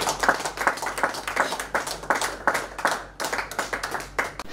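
A congregation claps in praise during a morning prayer gathering, a rhythmic run of loud, evenly spaced hand claps close by, with a brief break near the end before the beat resumes.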